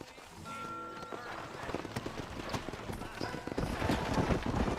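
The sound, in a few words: horse hooves in the video game Red Dead Redemption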